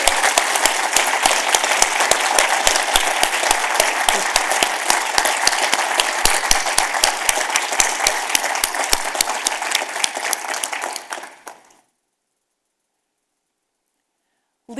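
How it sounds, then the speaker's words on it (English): Conference audience applauding the event organizers, a dense, loud burst of clapping that holds steady for about eleven seconds, then stops abruptly into silence. "can we all please give our wonderful conference organizers a nice round of applause?"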